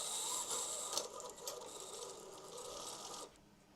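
A Sewtalent embroidery machine runs with a steady, close mechanical whir and rapid needle chatter for a few seconds, then cuts off abruptly near the end.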